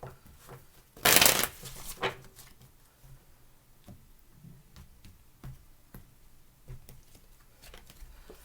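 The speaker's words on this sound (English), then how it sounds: "Last shuffle." Tarot cards are shuffled in one loud burst of riffling and flutter near the start, followed by a second shorter burst, then quieter taps and card handling for the rest.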